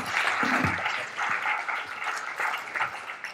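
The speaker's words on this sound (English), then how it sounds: "Hand of applause for here, Spencer Fung." An audience at a conference on IoT and retail applauds a speaker, giving steady clapping that swells and fades in a few waves.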